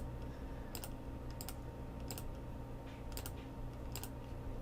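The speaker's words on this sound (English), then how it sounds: "I'm just going to want to type numbers that are multiples of 3" Numbers are typed on a computer keyboard, a handful of sparse, soft keystrokes spaced out over a quiet, steady background hum.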